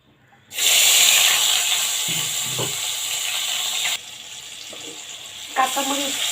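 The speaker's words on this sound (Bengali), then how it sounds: "সিলভার কাপ মাছ সরিষা বাটা দিয়ে রান্না হচ্ছে।" Silver carp fish frying in mustard paste, a loud hiss of sizzling oil that starts suddenly, then settles to a steady crackle with faint background sounds.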